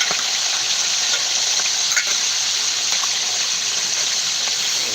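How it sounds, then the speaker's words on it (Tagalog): Fish frying in hot oil, a steady loud sizzle with crackling pops running continuously and close up, with no talking. "ayan ganyan ang pagprito sa isda guys para mas sarap"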